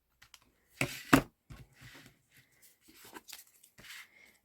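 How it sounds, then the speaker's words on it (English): Paper is trimmed along its edge for a scrapbook flip album. Two sharp, close cutting snaps are followed by a few faint, scattered clicks and rustles in a quiet room. "Then I'll just cut that edge off."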